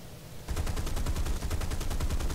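Rapid aircraft machine gun fire in the air-combat video game War Thunder, a loud, evenly spaced burst of shots that starts abruptly and rattles on for about two seconds.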